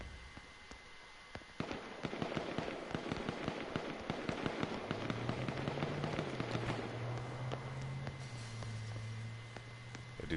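Gunfire in H1Z1 on PS4: a rapid string of sharp crackling shots bursts out in quick succession, fairly loud, then gives way to a steady low hum.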